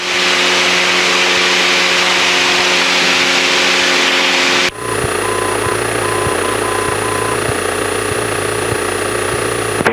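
A Cessna light airplane engine drones loudly and steadily in flight, its tone shifting abruptly about halfway through into a rougher, pulsing note that continues to the end.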